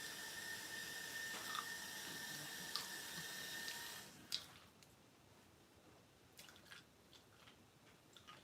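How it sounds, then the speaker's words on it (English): Tap water runs steadily into a sink while seeds are rinsed out of a spicy pepper, a continuous wash that stops abruptly, leaving faint scattered squishes and light handling noises. "rinse the seeds out of the pepper"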